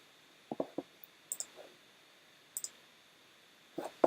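A computer mouse clicking at a desk, a handful of sharp, quiet clicks, some in quick pairs, separated by near-silent pauses.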